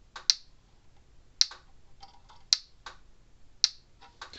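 A Gallagher M800 electric fence charger ticking in sharp, loud, regular clicks about once a second, each followed by a faint softer tick, with no talking.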